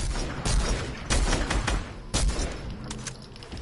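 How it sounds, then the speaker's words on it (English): Rapid bursts of gunfire in the video game Fortnite, with several loud close shots spaced across the stretch and quieter shots in between, set against continuous game noise. "So I shot at some kid there."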